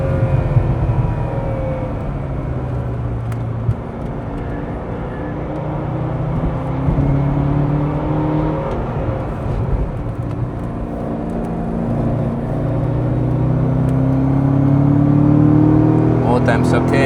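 A stock Corvette Z06 engine roars at full throttle on the Nürburgring, its pitch sweeping up and down as it holds high revs, close and continuous.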